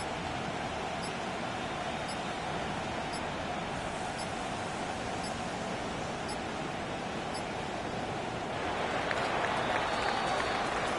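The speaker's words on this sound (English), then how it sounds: "as they celebrate to the boos of the home crowd" Home crowd at an NFL football game booing as the visiting Buffalo Bills celebrate a road win, a dense, steady roar of many voices that swells slightly louder near the end.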